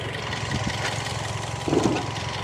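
A 2014 Toyota Vios Limo third-generation car engine idling after a keyless push-button start, a steady low close rumble with a slight swell near the end.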